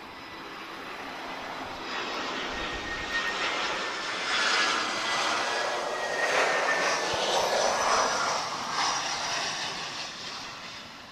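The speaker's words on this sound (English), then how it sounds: "I hear some more engines starting on the ground" Aircraft engines spool up on the ground at Lisbon Airport, a broad rising and falling whine and roar heard from a distance, swelling in the middle and easing off.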